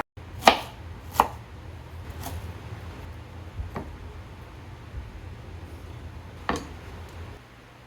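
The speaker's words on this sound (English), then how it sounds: "what I'm going to do now is just chop through it to make the pieces a little smaller" Knife chopping cabbage on a cutting board for buffalo chicken tacos, a few sparse sharp chops spaced irregularly over low background hum, close by, no talking.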